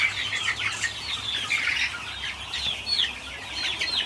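Cornish cross broiler chickens crowd a roomy brooder, their soft overlapping clucks and chirps forming a steady, close murmur with no talking.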